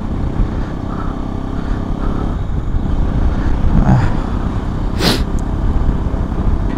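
A motor vehicle, most likely a scooter or motorcycle, rides along with a steady, smooth engine drone that stays loud and even throughout, with wind and road noise and a brief hiss near the end.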